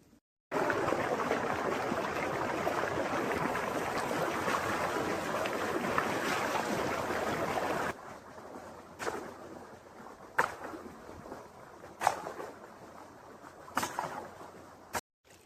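Water gushes through an irrigation channel in a farm field, a loud, steady rushing flow for several seconds that then drops away to a quieter trickle broken by a few sharp knocks.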